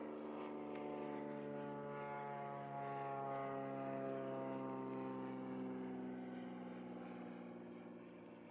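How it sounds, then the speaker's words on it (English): A propeller airplane drones overhead during a morning safari drive in the bush, a steady harmonic buzz holding for several seconds before slowly fading. "Sorry about the aeroplane buzzing overhead."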